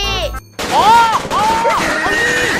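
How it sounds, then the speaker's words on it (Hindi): A loud, booming explosion sound effect in a desi Hindi comedy skit erupts after a brief pause, with cartoonish whistling tones sweeping over it and voices shouting around it. "अरे ये धमाका कैसा?"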